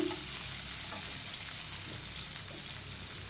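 Chopped onion fries in a pan for a potato and cauliflower curry, a steady broadband sizzle with faint stirring scrapes, close and continuous with no talking.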